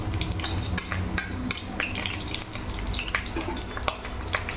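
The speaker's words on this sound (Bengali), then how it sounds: "আলুটাকে ভেজে নেব। তার সাথে সাথে একটা তেজপাতা আর একটা শুকনো লঙ্কা আমি দিয়ে দিলাম।" Peeled potato frying in a pan with a bay leaf and a dried red chili, preparing a chicken gravy; a steady close sizzle with scattered crackles, pops and light stirring scrapes, no one speaking.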